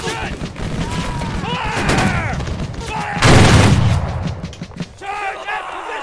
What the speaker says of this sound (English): Oh, I just got a nasty volley.